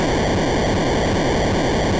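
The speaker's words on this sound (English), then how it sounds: "it's almost like you're hearing white noise" Atari video game white-noise sound effect, a loud steady hiss spread evenly across the clip, with no breaks and no voices.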